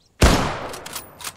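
Gunfire in the military simulation game Arma 3: a sharp, loud shot cracks out, followed by a decaying echo and a few fainter distant reports.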